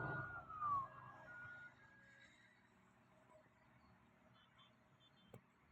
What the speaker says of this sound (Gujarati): એમ્બ્યુલન્સ આવે